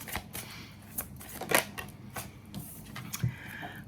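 Oracle cards are drawn and shuffled nearby in quick, uneven bursts of papery slaps and riffles, with one sharper snap in the middle and softer flicks around it.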